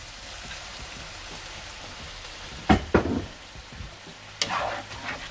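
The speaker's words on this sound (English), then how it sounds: "Half cup red wine in the pan." Half a cup of red wine goes into a hot pan for baked ziti, bursting into a sudden hissing sizzle over a faint background crackle, with a couple of brief louder splashes and no talking.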